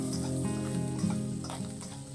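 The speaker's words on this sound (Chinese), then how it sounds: "先倒入肥一点的腊肉，加一点点油，翻炒一下" Fatty cured pork stir-fried in a little oil in a wok, a steady close sizzle with scraping stir noises throughout.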